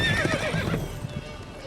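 Roach, the horse in Witcher 3, gives a sharp close neigh and whinny over quick clip-clopping hooves, the call fading out within about a second while a few hoof beats continue.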